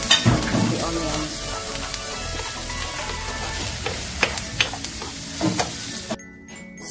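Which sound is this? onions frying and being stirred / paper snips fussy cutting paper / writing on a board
onions frying and being stirred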